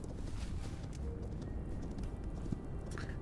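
A zombie horse being ridden in the Hytale video game clops along in a quick, faint, steady rhythm of hooves over a soft windy background, with no talking.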